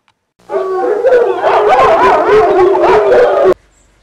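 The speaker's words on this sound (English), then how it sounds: "dogs congregate loudly on the runways" Several dogs howling together on runways, with yips and barks mixed in, a loud, wavering chorus that starts and stops abruptly.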